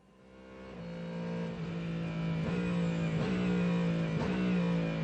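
Ford Mustang GT3 race car at Le Mans exiting the Ford chicane, a loud, near engine note building steadily with rising revs and gear-change blips, the drone sustained throughout.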